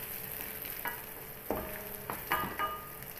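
Chicken fries in a pan with soy sauce, a faint steady sizzle broken by a few soft clanks and stirring scrapes, with no talk.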